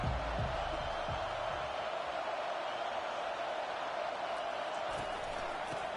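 Stadium crowd roaring steadily in College Football 25 during a Colorado at Clemson game, a dense, continuous wash of noise with scattered cheers and whoops, loud and unbroken throughout.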